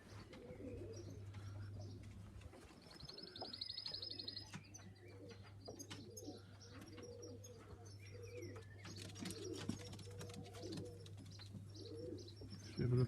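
Young pigeons recently weaned in a loft coo softly and continuously, with scattered chirps and brief wing flutters over a steady low hum, all fairly faint and close by.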